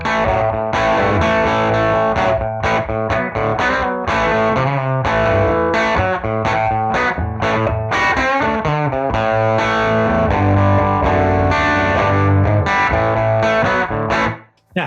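Electric guitar played through a UA Showtime amp plugin, a clean, bass-heavy tone with deep sub lows, strummed chords in a steady, continuous riff, loud and alone.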